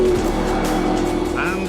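McLaren P1 hypercar accelerating hard, a loud close engine roar with a rising tone near the end, heard in a brief burst.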